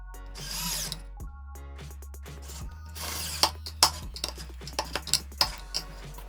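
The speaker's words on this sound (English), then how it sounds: "I'm going to fix it with this screw" A power drill driving a screw to fasten a washer on a battery-operated hot wire foam cutter, in short whirring bursts broken by small metallic clicks and clinks, close by with no talk.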